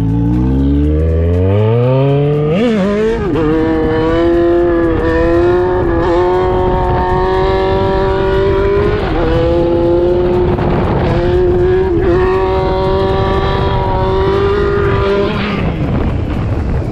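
A new Yamaha XJ6 motorcycle engine revs hard while ridden, climbing sharply in pitch, then holding a loud, steady high note with brief dips between gear changes, close and alone throughout.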